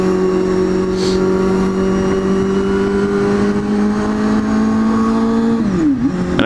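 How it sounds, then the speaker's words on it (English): Motorbike engine running loud and close at a steady high idle or rev, with a strong continuous harmonic drone that drops in pitch near the end as the throttle eases off. "this bike sounds amazing."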